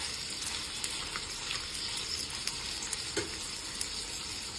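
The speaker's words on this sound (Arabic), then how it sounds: "هذا نحمصها بالزيت" Boiled chicken livers fry in oil in a pan, giving a steady loud sizzle with small popping crackles scattered through it and no talking.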